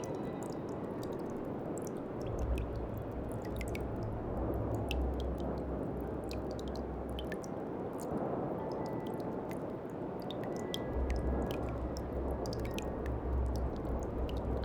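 Water rising and flowing in from an unseen source in the game Slay the Princess: a steady, close wash of liquid with wet squishing and dripping textures, moderately quiet and continuous, with no voices.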